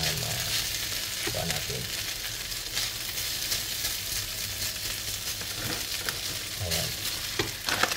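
Milkfish filling with raisins stirred in a frying pan, a steady close sizzle with scraping spatula strokes throughout, and a brief voice speaking once or twice.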